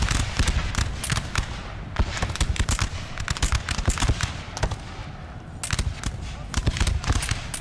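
Musket fire crackles through a battle in the video game Napoleon: Total War during the Heliopolis campaign, with dense, overlapping volleys of sharp shots running almost continuously at moderate distance.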